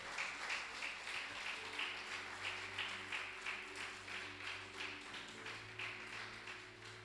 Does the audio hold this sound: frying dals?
no